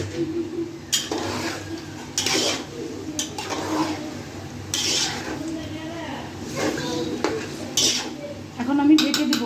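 Potatoes being stirred into a pot of biryani with a metal spoon, scraping and clanking against the pot in bursts throughout, with a low hum and faint birds in the background.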